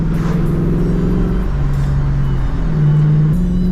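A Ford Mustang with a newly installed clutch drives along, its engine droning steadily and loud, the pitch stepping up through shifts as it accelerates.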